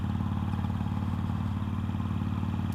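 A motorcycle engine runs at a steady, buzzy rumble with a fast, even mechanical beat, close by and constant throughout.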